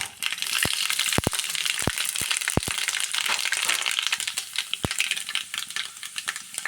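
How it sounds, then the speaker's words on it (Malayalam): Mustard and fenugreek seeds frying in two tablespoons of hot coconut oil in a clay pot, a steady close crackling sizzle broken by several sharp loud pops as seeds burst. "രണ്ട് ടേബിൾ സ്പൂൺ വെളിച്ചെണ്ണ വീത്തിൻ്റെ അതിൽ കുറച്ച് കടുക് കുറച്ച് ഉലുവ"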